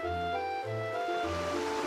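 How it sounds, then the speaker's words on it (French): Storm waves heaving on open sea around a small boat, a steady continuous roar of water with a sustained low tonal drone underneath, no talking. "Le petit bateau ne résista pas aux énormes vagues qui se soulevaient et il chavira."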